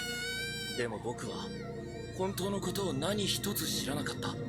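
An infant cries in a commercial, wailing high and strained over music and other sound, fairly loud and continuous.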